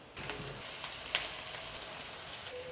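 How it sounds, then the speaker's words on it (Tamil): Cabbage vada batter frying in hot oil, a steady close sizzle and crackle with scattered bright pops throughout, no voices. "இதை எண்ணெயில் போட்டு நம்ம பொரிக்க போகிறோம்"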